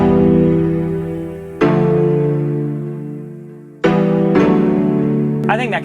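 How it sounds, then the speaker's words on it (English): Suspended chords on a Piano Wave synth for a synthwave song, three sustained chords each struck and slowly fading, with a warbling sweep at the end. "Let's try like Piano Wave."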